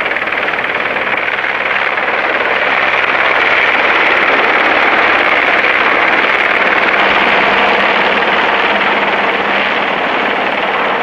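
A loud, continuous helicopter drone with a steady rotor chop fills the whole stretch, close and unbroken, as it carries slung loads up a mountain.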